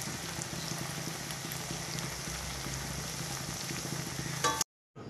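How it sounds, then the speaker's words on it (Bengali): Chickpea-lentil kofta balls deep-frying in a wok of hot oil give a steady, close, dense sizzle that carries on evenly with no talk, then cuts off abruptly just before the end. "এবার আমরা ডুবো তেলে সেগুলোকে ফ্রাই করে নেব"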